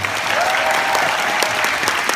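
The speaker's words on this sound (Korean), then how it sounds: "다시 이분들에게 다시 한 번 큰 박수 부탁드립니다." A theater audience applauds at a musical curtain call for a 200th performance, a dense, steady wash of clapping hands filling the space without pause, with faint voices mixed underneath.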